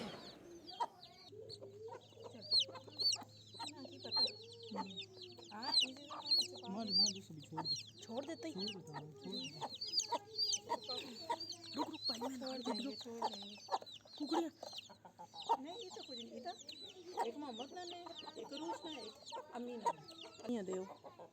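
A hen clucks repeatedly while small chicks peep in high, busy chirps throughout, with a low steady hum underneath.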